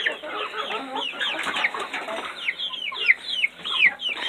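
Chickens, including young Americana pullets and roosters, cluck and chatter busily at feeding time, a dense overlapping run of short calls and squawks heard close by throughout.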